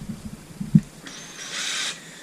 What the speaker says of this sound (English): you can put the valve in the drill